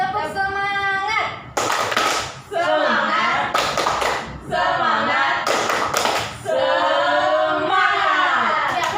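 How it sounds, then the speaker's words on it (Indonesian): A school class does a rhythmic spirit clap, with loud bursts of many hands clapping together that alternate with children chanting in unison, repeated three times. "Tepuk semangat."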